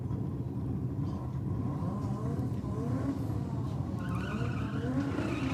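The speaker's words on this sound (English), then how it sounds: "Early model RX-7 going through the burnout procedure." An early-model Mazda RX-7 does a burnout at an Australian drag strip, a steady loud roar of engine and tyre squeal running the whole stretch, with faint announcer-style talk and crowd noise beneath.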